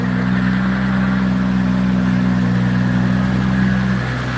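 A 2,000-horsepower engine running loud and close with a strong, steady low drone, holding an even, sustained rumble that eases slightly at the very end; no speech.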